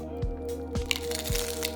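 Someone bites into a crunchy Taco Bell taco shell filled with cheese, lettuce and minced beef, giving a few close, sharp crackling crunches against a low background hum.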